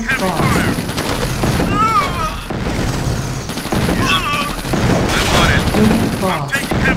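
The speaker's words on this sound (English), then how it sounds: "I'm taking heavy fire!" Heavy gunfire rattles through a battle in the strategy game Command and Conquer Tiberian Sun, with dense bursts and booms running almost continuously under unit voice responses.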